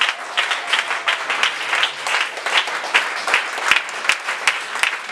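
A church congregation applauds continuously, a dense, steady wash of many hands clapping close by, with a few sharper individual claps standing out.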